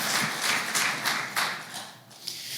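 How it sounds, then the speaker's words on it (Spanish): A church congregation claps together in a brisk, steady round of applause, dense overlapping hand claps that swell and ebb over a few seconds without any talking. "denle el aplauso al Señor"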